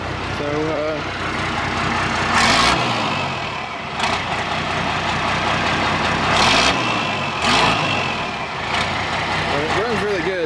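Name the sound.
old mechanical school bus engine running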